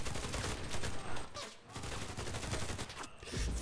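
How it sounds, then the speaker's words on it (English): Rapid gunfire from the World War II shooter Enlisted, dense overlapping shots and bursts filling the whole stretch, loud and continuous with a short dip midway. "Somebody's shooting. I don't know where from."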